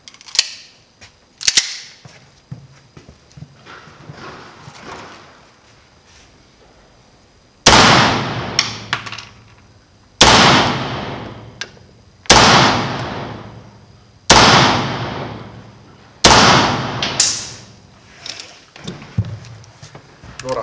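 Sharp 9x21mm Beretta 92X Performance pistol shots crack out, a few scattered early and then five loud, evenly spaced reports, each with a short echoing tail.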